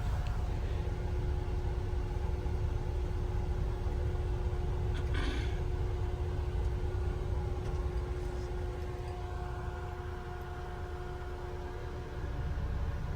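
A Mahindra Roxor off-road vehicle drives along a road in winter, its engine and road noise forming a steady, loud, low rumble from inside the cab, with a brief higher rattle midway.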